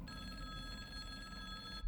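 A telephone rings steadily as ambient background in the Silent Hill 2 Remake video game, a faint, continuous electronic ring held at a distance for nearly two seconds before cutting off.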